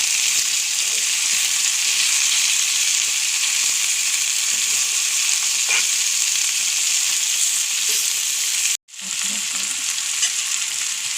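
Small mackerel fry in hot oil in a pan, giving a loud, continuous close sizzle with a few faint knocks, briefly cut off near the end before resuming; no one speaks.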